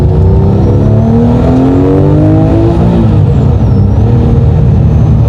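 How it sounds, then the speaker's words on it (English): A Porsche 911 GT3 RS with the 4.0-litre Metzger engine accelerates hard, its loud, continuous engine note climbing steadily in pitch through the revs, close by and with no talk over it. "That Metzger engine has so much torque"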